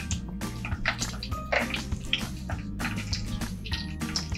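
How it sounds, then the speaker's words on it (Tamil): Mustard seeds splutter in hot oil with dense, irregular popping and crackling over a low background hum, continuous and close throughout. "எண்ணெய் சூடாயிடுச்சு. கடுகு சேர்த்துக்கலாம்."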